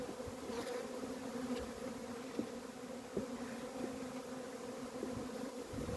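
Honeybees from an open Buckfast colony hum in a steady, continuous drone close by, with a few individual bees passing nearer; no one speaks.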